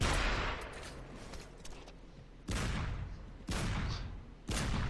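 Sniper gunfire in the Gears of War video game: a sustained fusillade of shots with three sharp, loud bursts striking in a steady rhythm near the end, over a dense background of battle noise.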